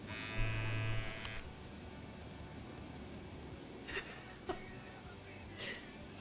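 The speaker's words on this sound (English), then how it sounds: "It's a beard trimmer." A Manscaped electric beard trimmer switches on with a close, steady buzz for about a second, then drops away, leaving a quieter room where soft laughter can be heard.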